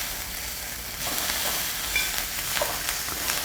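Filet mignon steak searing in a hot pan, a steady dense sizzle and crackle that holds continuously without talk.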